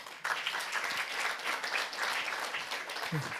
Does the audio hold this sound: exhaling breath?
no